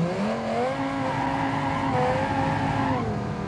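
V10 engine in an SUV build revving in BeamNG, a loud continuous engine whine whose pitch rises and falls as the throttle changes, close and alone with no talk.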